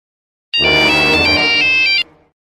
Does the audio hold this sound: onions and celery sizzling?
no